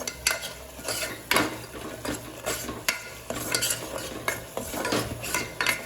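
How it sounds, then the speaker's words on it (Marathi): Masala for a vegetable pulao cooks on a high flame while a spoon stirs it briskly, making repeated scraping strokes against the pan over a low sizzle, with no talk. "फास्ट गॅस करते आणि मसाला जरा शिजवून घेते"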